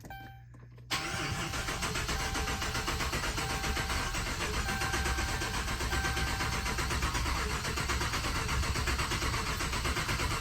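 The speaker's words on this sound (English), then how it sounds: "It's so weird having a push button start where it just cranks over for a while on its own." A Chrysler 300C with its fuel pump relay pulled cranks over steadily without catching, a continuous loud rhythmic starter churn that runs on for about ten seconds after a short quiet start.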